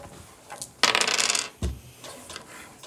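Dice clatter across a table at close range, a burst of rattling hard clicks followed by a single sharp knock as they settle, then quiet.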